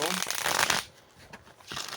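Tarot cards being shuffled give a dense, riffling flutter that fades briefly and then returns, with a voice speaking softly underneath.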